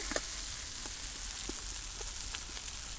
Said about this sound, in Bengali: মশলা কষানো হয়ে গেছে একটু জল দিয়ে নেবো